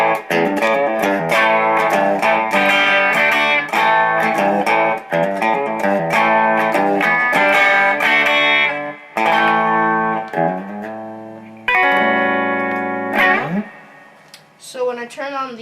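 A clean electric guitar tone from a Fender Stratocaster's neck pickup, on a guitar fitted with a humbucker in the bridge, plays sustained melodic phrases and chords. The notes ring out clearly, with short pauses between them.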